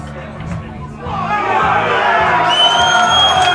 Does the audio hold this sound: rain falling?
no